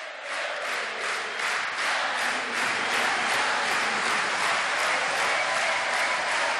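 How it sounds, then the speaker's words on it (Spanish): A large theatre crowd at a Teatro Colón rock concert gives a loud, sustained ovation of dense clapping and cheering that swells and holds throughout. "Ahí está la ovación."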